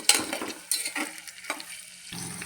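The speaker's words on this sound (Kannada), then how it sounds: "ನೆಕ್ಸ್ಟ್ ಆನಿಯನ್ ಹಾಕ್ಕೊಳ್ತಿದ್ದೀನಿ ರೀ. ಇವಾಗ ಇದನ್ನು ಮಿಕ್ಸ್ ಮಾಡ್ಕೊಳ್ತಿದ್ದೀನಿ ಸ್ವಲ್ಪ." Green chilies and onions sizzle in hot oil for pulav while a spoon stirs them in the pan, giving several scraping stirs over a steady frying crackle, fairly close.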